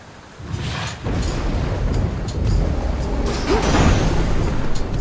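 Rain and rolling thunder in the video game Hades 2, a steady rain hiss with deep rumbling that swells and builds toward the end.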